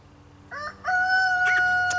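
A rooster crows loudly and close by in a farmyard, one drawn-out call with a sharp rise that holds steady to the end, over quiet background.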